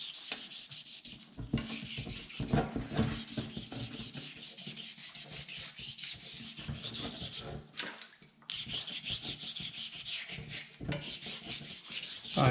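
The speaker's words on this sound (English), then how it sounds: "I'm going to use a file to knock the bulk of it off" Repeated scraping and rubbing strokes of a file and sandpaper on a cracked steering wheel, rhythmic and fairly close, with brief pauses between passes.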